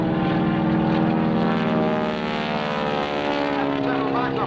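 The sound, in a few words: propeller airplane engine during an aerobatic loop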